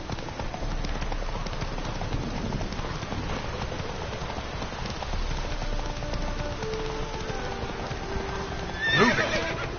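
Roach, a horse in the video game The Witcher 3, gallops with rapid rhythmic hoofbeats over a steady patter of rain and gives a loud whinny near the end.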